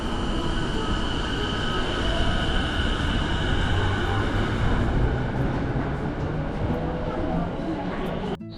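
A train in Japan rumbles along with a loud, steady rolling roar from close inside or beside the carriages, a faint whine above it, and a sudden drop in sound at the very end.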